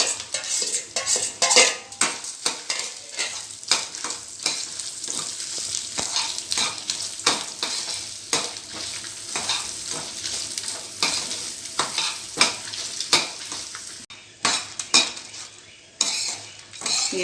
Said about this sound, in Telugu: శనగపప్పు, మెంతులు, మిరియాలు, ధనియాలు, ఈ కొబ్బరి ముక్కలను అన్నిటినీ కలిపి కొద్దిగా వేయించుకోవాలి.